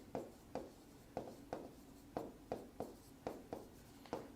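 Pen or marker writing on a board during a lesson, about ten quick strokes in an even rhythm, close and quiet, with no talking.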